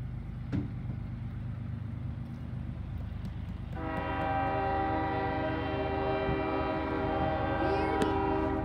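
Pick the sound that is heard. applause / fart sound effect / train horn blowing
train horn blowing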